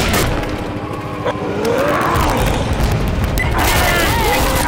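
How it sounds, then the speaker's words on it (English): A pipe bomb blast in Left 4 Dead: a heavy, rumbling explosion that fills the whole clip, with crackling debris and a dense, noisy roar that swells again near the end, and no clear talking. "Zoe, get away from the pipe bomb!"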